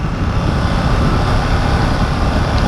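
A KTM 890 Duke R motorcycle ridden in third gear, its engine droning steadily and loudly close by, mixed with rushing wind noise and no talk.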